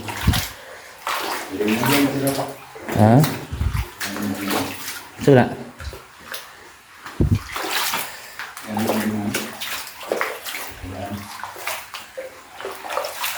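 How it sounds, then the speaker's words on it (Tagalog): Running water splashes and gurgles steadily inside a cave, echoing, while people talk loudly over it. "So, ito yung tubig."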